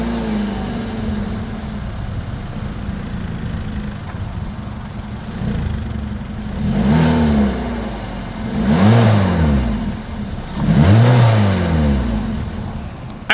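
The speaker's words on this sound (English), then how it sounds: "As always, here is that exhaust clip." A 2023 Hyundai Kona's single-outlet exhaust idles steadily, then swells through three separate blips of revving a couple of seconds apart, each rising and falling back to a smooth idle.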